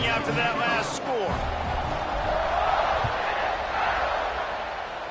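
A football stadium crowd buzzes after a score, a dense, steady roar that fills the background while a commentator talks over it.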